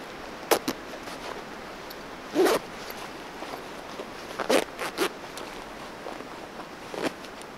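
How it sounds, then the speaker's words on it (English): Zipper of a heated polar fleece hoodie jacket pulled in several short, brisk rasps, close and fairly quiet, with soft rustling of fabric between strokes. "zip up the jacket"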